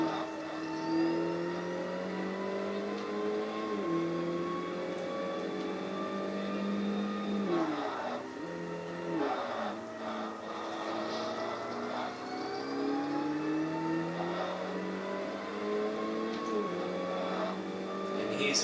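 A car engine in the Forza Motorsport racing game revs and climbs through the gears, with rising whines broken by brief shift dips, steady and moderately loud throughout.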